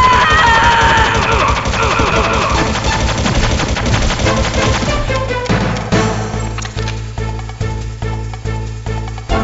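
Metal Gear Solid gameplay brings heavy automatic gunfire, loud and continuous at first, then thinning into a rhythmic run of distinct bursts, with voices and game sounds mixed in.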